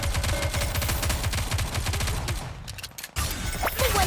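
Rapid automatic gunfire in the shooter game NIKKE: Goddess of Victory, a dense rattling burst of shots that breaks off briefly, then resumes loud and close.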